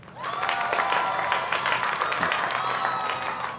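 A studio audience bursts into applause to welcome a guest on a talk show, steady close clapping with crowd murmur and some tonal music underneath, lasting a few seconds.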